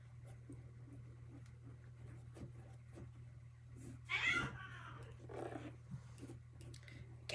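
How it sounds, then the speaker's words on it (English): Cats fight somewhere at a distance, a burst of yowling and screeching rising over a steady low hum, fading into softer growls. "Cats are fighting."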